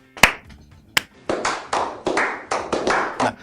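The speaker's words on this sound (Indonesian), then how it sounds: "Tepuk tangan." A few sharp handclaps, two isolated at first and then a quicker run of about eight claps in an uneven rhythm, close and crisp with nothing else around them.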